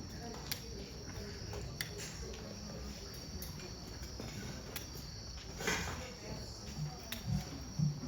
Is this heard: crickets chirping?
yes